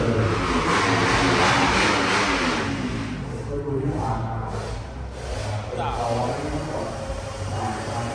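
Motorcycle engines rev and roar at a drag racing track in Buriram, Thailand, a loud continuous engine drone that swells and eases over a busy crowd background, with a voice talking over it.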